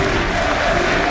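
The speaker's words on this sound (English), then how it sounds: "We hear the crowd here." Arena audience at the League of Legends All Star Finals applauding and cheering, a brief continuous wash of clapping and crowd noise, fairly loud and undiminished for the whole second.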